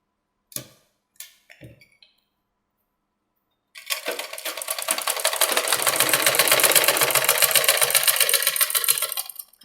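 Sewing machine stitching a three-piece princess cut blouse, size 34, running in one steady, fast continuous whir for about six seconds after a few brief handling clicks and taps, close and alone with no talk.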